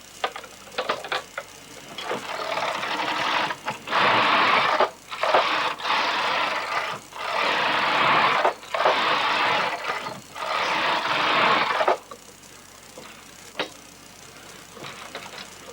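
A Passap knitting machine works through rows of a multicoloured garment. The carriage makes loud whooshing, clattering passes in repeated bursts separated by short pauses, with lighter ticks and clicks before and after the long run of passes.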